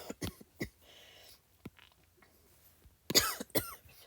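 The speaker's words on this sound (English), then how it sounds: "I tried to click pause before I coughed" A person coughs several times in quick bursts, with a cluster of sharp coughs near the start and a louder pair toward the end, close and otherwise quiet between them.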